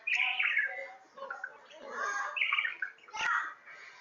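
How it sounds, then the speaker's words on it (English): Two pet birds, one a green male, chirp and tweet in bright, busy bursts close by, with short pauses between calls and a sharp tap near the end. "These my two birds."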